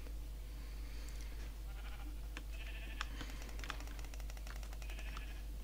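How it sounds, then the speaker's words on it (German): Several Minecraft sheep bleat in short, nasal calls while rapid keyboard clicks patter alongside, all fairly quiet over a steady low hum. "Da sehe ich doch schon gleich Schafe."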